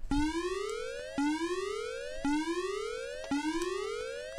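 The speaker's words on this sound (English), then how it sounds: "Boss siren's gonna come in." A boss warning siren from The Guardian Legend video game wails in repeating rising electronic sweeps, four loud upward glides about a second apart, each ending in an abrupt reset, alone and clean.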